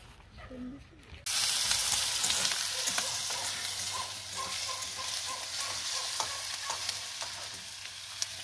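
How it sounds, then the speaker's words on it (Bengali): Steady sizzling of onions frying in a pan begins abruptly after a quiet second, with occasional stirring scrapes and clicks throughout. "ডিম ভাজা হয়ে গেছে, পেঁয়াজ ভাজা চলছে।"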